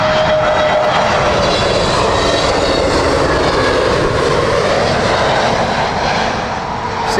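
An SAS airliner on final approach in a gusty crosswind at Heathrow passes fairly close, its engines a loud, steady roar with a faint whine, and no talk over it.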